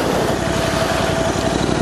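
A Royal Enfield Interceptor 650 motorcycle engine running steadily, a loud close rumbling idle with a rapid even pulse and no talking over it.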